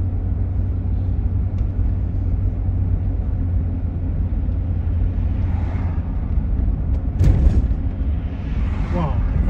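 A car speeds past on a night street, a loud steady rumble of engine and road noise with a brief surge as it passes, and voices talking faintly underneath.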